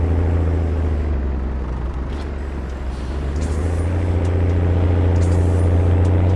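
A tractor engine in Farming Simulator 19 idles with a steady, loud low diesel rumble that holds on its own throughout, with no talk over it.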